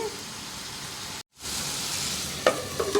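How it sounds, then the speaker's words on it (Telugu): Ivy gourd (dondakaya) pieces fry in oil with a constant hissing sizzle that briefly cuts out, then resumes, followed by a few scraping clatters as they are mixed. "మధ్య మధ్యలో ఇలా మిక్స్ చేసుకుంటూ ఫ్రై చేసుకోవాలండి"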